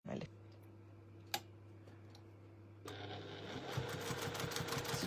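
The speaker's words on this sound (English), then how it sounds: "we are going to top stitch along the top" A sewing machine top-stitches along a letterbox zip. A steady low motor hum with a single sharp click comes first, then faster, brighter stitching chatter builds up close by.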